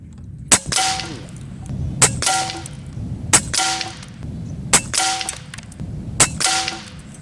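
Five evenly spaced shots from an Airmaks Arms Caiman X regulated PCP bullpup air rifle with a CZ barrel, each a sharp crack followed by a ringing metallic ping from the struck bullseye target, loud and close.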